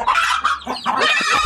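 Chickens cluck and squawk agitatedly while fighting off an attacking eagle, loud and close in a brief burst of excited calls.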